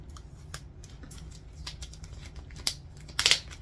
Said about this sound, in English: let's get that darn